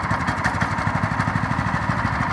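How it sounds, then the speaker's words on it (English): Small gas engine running close by with its choke on, a loud, steady, rapid putter of firing pulses. "give it a quarter pull and it should start right up."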